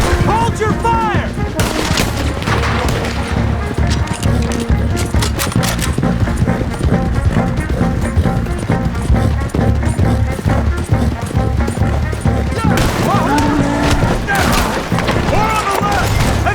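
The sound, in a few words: gunfire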